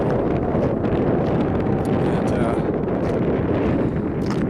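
Cold wind blows along a bay, buffeting the microphone in a constant low roar and rumble, close and steady throughout, with faint higher rustles on top.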